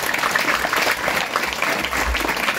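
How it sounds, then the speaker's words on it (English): A crowd at a high school graduation ceremony applauds for sponsor families, dense steady clapping at close range with faint voices mixed in. "Please join us again in thanking our sponsor families with another round of applause"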